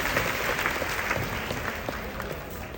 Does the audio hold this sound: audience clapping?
yes